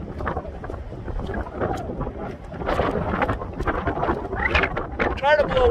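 Gusty wind buffets the microphone outdoors in Florida, a constant rough roar under voices that talk throughout.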